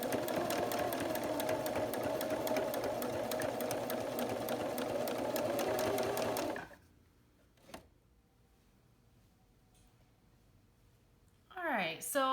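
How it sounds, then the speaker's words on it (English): A sewing machine runs close up, sewing the top stitch around a reversible napkin in a fast steady whir for about six seconds before stopping, followed by near silence with one small click and then someone talking. "I'm going to overlap my beginning stitches and we'll be done."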